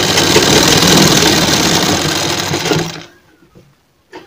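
A sewing machine stitches gota patti trim onto a cotton kurti, running in a loud, steady mechanical whir for about three seconds before stopping, followed by faint handling clicks.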